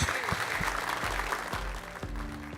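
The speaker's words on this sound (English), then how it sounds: "Let's have a loud round of applause for our panelists." Applause from an audience for a panel at an investment immigration discussion event, moderately loud with a rhythmic low thumping underneath.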